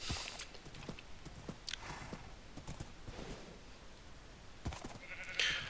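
Faint hoof clops and a few soft animal bleats from a horse wandering in the Minecraft modpack GregTech New Horizons, irregular and quiet over a low game background.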